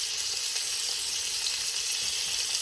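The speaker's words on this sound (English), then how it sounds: "we're just going to sear the sides" Pork seared in a pan for a green chili casserole gives a steady, close, even sizzle that holds without a break, with no talking.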